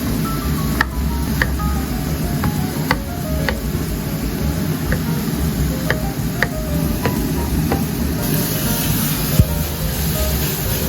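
Onions stir-frying in a pan, a steady loud hiss and sizzle with occasional light clicks of a utensil against the pan, close and continuous without any talk.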